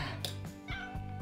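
A rescue cat meows close up, a few short plaintive calls in quick succession.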